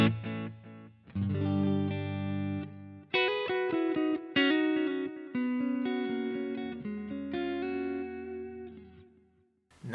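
Stratocaster electric guitar run through the analog delay of a Boss GT-100 multi-effects unit, playing sustained chords and single notes with repeating echo tails, loud and alone without speech, with a brief pause near the end.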